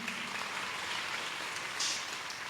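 A spiritual satsang audience claps in a dense, continuous wash of applause that stays loud and even throughout, with no voices standing out.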